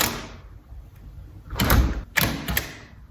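A lock is worked with sharp metallic clunks and thuds, a muffled knock followed by two or three louder clicks close by, loud and percussive with no talking.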